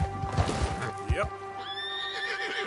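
A horse in a video game whinnies loudly with hooves clopping beneath it, set against a steady musical drone, while someone talks over the start.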